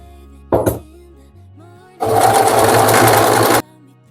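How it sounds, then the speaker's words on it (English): A domestic sewing machine and serger stitch the side seams and hem of a garment, heard as a short burst followed by a loud, steady mechanical whir lasting about a second and a half before stopping. "Okay, so I've sewn, serged the side seams and the hem."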